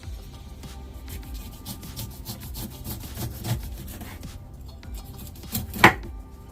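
A big knife chops and scrapes through produce on a cutting board while a detox drink is prepared, with irregular close rubbing and cutting strokes and a sharper knock near the end, with no talking.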